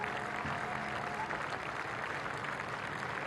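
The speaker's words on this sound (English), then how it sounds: "You deserve all those applauds" Sustained, dense applause from a cricket crowd after a long innings by a New Zealand batter against South Africa, a steady wash of clapping filling the ground at moderate distance throughout.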